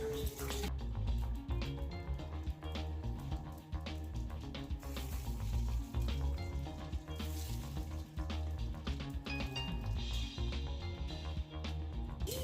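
Oil sizzles in a kadai with bay leaf, dried red chilli and panch phoron for a tomato masoor dal, a busy continuous frying crackle under clinks and clatter in the kitchen.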